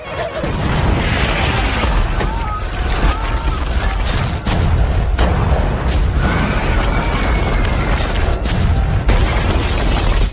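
Heavy booms of cannon fire crash repeatedly over a dense, rumbling battle din, with sharp blasts punctuating the noise.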